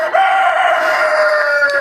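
A broody hen gives one loud, close, drawn-out call that wavers slightly in pitch.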